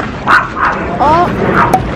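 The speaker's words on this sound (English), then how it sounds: "What is that? Your dog." A dog yips and barks a few times in short bursts close by, mixed with excited voices of people talking over it.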